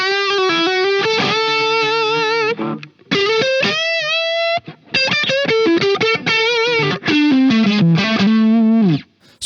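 Electric guitar through a Soldano SP77 preamp with clean boost and overdrive, playing loud distorted riffs and sustained lead notes with bends, broken by brief pauses, close and alone.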